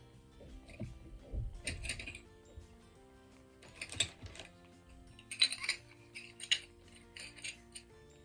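Glazed ceramic dishes fresh from a kiln, handled and set down with scattered light clinks and clatters, faint and close, in irregular bursts separated by quiet moments.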